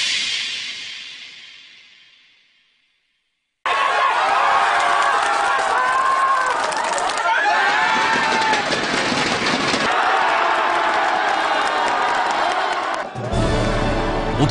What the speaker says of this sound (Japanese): 大変な歓声、ものすごい人です。